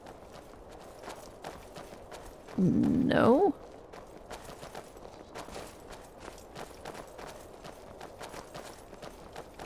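Horse hooves clip-clop in a steady rhythm through Skyrim, moderately near, with a brief louder rising tonal burst partway through.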